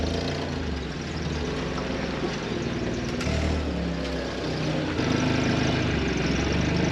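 A forklift engine idling and running on a potato farm, a steady low mechanical rumble that holds at even loudness with small shifts in load.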